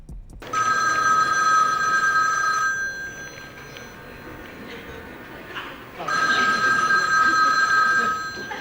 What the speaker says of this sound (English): And Charles Barkley is answering the phones.